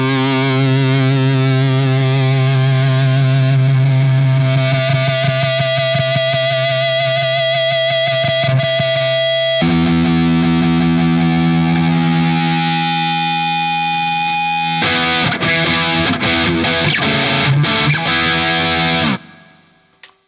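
Electric guitar through a Laney Ironheart amp with its boost engaged, driving a thick, distorted tone: sustained heavy chords and riffs that change partway through, turn choppy near the end, then cut off.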